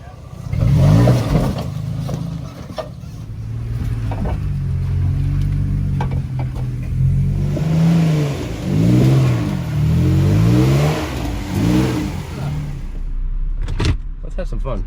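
A Nissan Frontier pickup with a solid-axle conversion revs and labors on a muddy Florida trail, engine rising and falling in steady surges up close while people talk over it.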